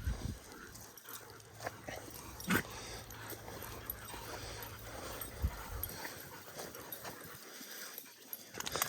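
A pack of mentor dogs and dogs in training on a walk outdoors, giving scattered yips, whimpers, panting and scuffling at close to moderate distance over quiet background.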